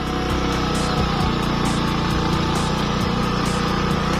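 A motorbike engine revs hard in first gear on a climb toward Keokradong, a loud, close, continuous buzzing drone with regular pulsing throughout.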